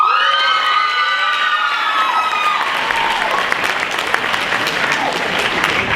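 Graduation crowd at Platt College applauding loudly, with whoops and high excited shouts over dense clapping at first, then settling into continuous applause.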